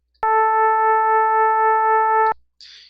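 A steady, bright Sega Genesis FM synth tone with stacked harmonics holds for about two seconds, carrying a slight wavering warble, then cuts off; a short hiss follows.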